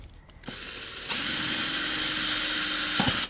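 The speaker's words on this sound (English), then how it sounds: "I'm going to hold it up here and drill into the bottom a little bit." A power drill whirs up after brief handling clatter and runs steadily at close range for about two seconds, drilling drainage holes into the bottom of a container, before stopping.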